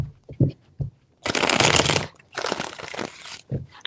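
A deck of cards is riffled twice in quick, crisp bursts, preceded by a few light taps and squaring of the cards.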